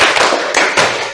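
A class of students clapping hands together in a counted pattern, heard as a dense, loud wash of overlapping claps with a couple of stronger accented beats close by.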